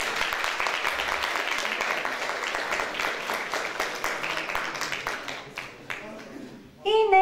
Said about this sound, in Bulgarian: Аплодисменти за Миши!